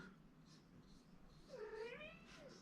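A cat meows once, a drawn-out rising and falling cry, close by over a low background hum.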